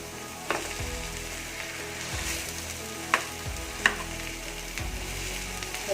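Mashed boiled potatoes and softened onions sizzle in a pan for a puri filling, a steady frying hiss broken by a few scraping stirs and clinks of the spoon, close and moderately loud.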